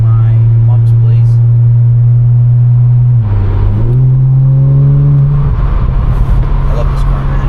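An Audi S5 B9 cruises on the road with a loud, steady engine drone heard from inside the cabin, its pitch dipping and then rising again with a gear change, accompanied by tire and road rumble.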